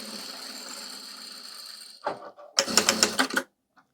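A Juki DDL-7000A industrial sewing machine hums steadily, pauses briefly, then stitches again in a short, rapid burst of mechanical clatter while backtacking at the end of the seam.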